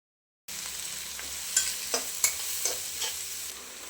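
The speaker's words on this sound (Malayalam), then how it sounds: "ചിക്കൻ വറുത്തെടുത്ത അതേ എണ്ണയിലേക്ക് തന്നെ 3 സവാള ചെറുതായി മുറിച്ചതും 4 പച്ചമുളക് നടുവേ കീറിയതും" Sliced onions and slit green chillies hit hot oil already used for frying chicken, giving a steady close sizzle with a few sharp stirring clinks and scrapes over about three seconds.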